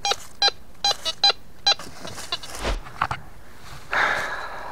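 A metal detector sweeps over a dug hole, giving a series of short, sharp repeated beeps in quick pulses, followed by some scraping and handling noise up close.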